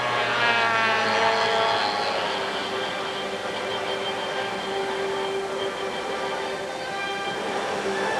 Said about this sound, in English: He flies remote piloted vehicles for a living.